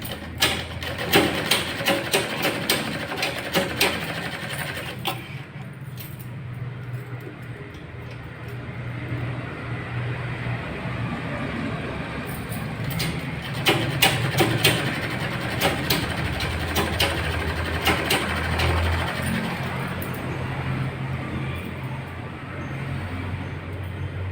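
A sewing machine stitching a lined 42-inch blouse runs as a steady, close mechanical whir with a fast rattling pulse, going on without a break and with only a little talk.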